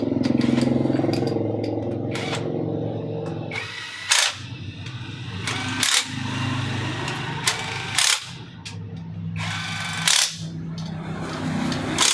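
A Euro R125 motorcycle engine runs up close during an oil leak check, a steady mid-pitched idle broken by several short sharp knocks or clicks spaced a couple of seconds apart, with no talk over it.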